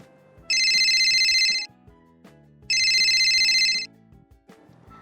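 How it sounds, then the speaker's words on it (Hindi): A mobile phone rings with two loud, clear bursts of its electronic ringtone, each about a second long with a pause between, over soft background music and no talk. "मेरा फोन बज रहा है।"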